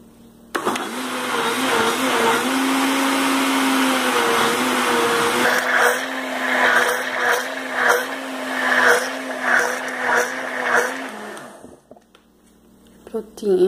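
A blender whirs loudly and steadily while mixing condensed milk for a passion fruit mousse, then pulses in short bursts before stopping, with talk over it.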